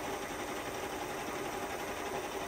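A SIP MP-3K jig boring machine runs with its spindle moving outward, giving a steady, even mechanical hum with a faint whirring buzz that holds constant throughout and has no voices over it.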